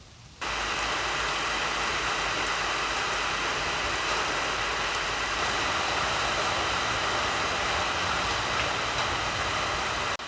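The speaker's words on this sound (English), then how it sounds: "I'm pretty sure you can hear the sound of the rain falling on this tin roof." Rain drums on the tin roof of a chicken house in a constant, loud metallic hiss, a dense wash of drops that holds steady after a quieter opening moment, with no voices over it.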